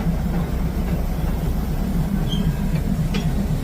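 A low, heavy rumble of a train rolling slowly past very close through Maeklong market in Samut Songkhram, steady throughout, with a faint metallic squeal near the end.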